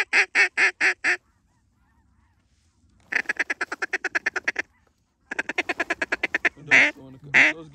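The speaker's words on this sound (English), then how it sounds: "Get ready on these ducks on the left, on the right." Loud wood duck quacks in rapid, evenly spaced bursts, three runs separated by short pauses, close and clear with no talking, at a waterfowl hunt.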